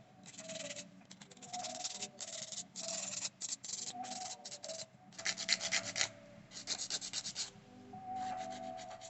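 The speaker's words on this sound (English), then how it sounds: "Make sure you file those sidewalls." A hand nail file rasps back and forth along acrylic nail sidewalls in close, repeated bursts of short strokes with brief pauses between them.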